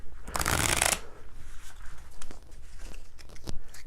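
One brisk, loud riffle shuffle of playing cards for the Spookre card game, close by, followed by a few soft taps and shuffles as the deck is squared.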